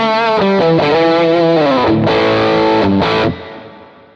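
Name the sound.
electric guitar through Matchless amp model on Quad Cortex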